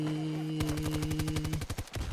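Rapid automatic gunfire in the Battlefield video game, a steady burst of about fifteen close, loud shots with a brief scattered tail of impacts at the end.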